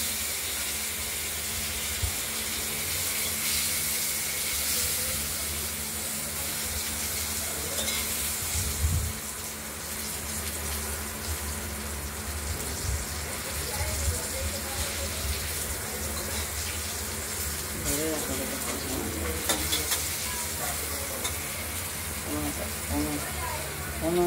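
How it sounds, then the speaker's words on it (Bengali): Cut potatoes frying in oil for a Bengali katla fish and potato curry, a steady sizzle with occasional stirring scrapes, close and moderately loud, and voices talking faintly over it at times. "কেটে রাখা আলুগুলো ভেজে নিচ্ছি"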